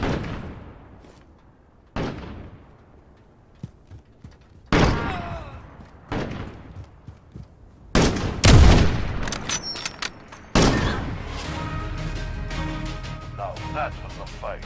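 Gunfight in the survival game Rust: single sharp shots crack out every couple of seconds, then a rapid burst of close, loud gunfire with thuds and clattering, rumbling ambience trailing after, voices talking around it.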